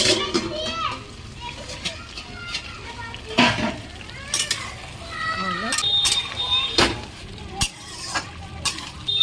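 Country chicken pieces get stirred in a pan for a village-style curry, scraping and clattering in irregular bursts over a light sizzle, while people and children talk in the background.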